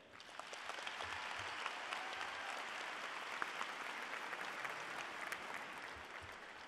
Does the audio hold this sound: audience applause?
yes